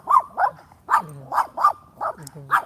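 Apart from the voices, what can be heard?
dog barking at passing people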